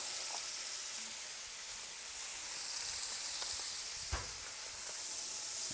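Chopped onion sizzles steadily in a pan over medium heat for Bavarian goulash, a soft continuous frying hiss with a single sharp knock partway through, heard close with no talking.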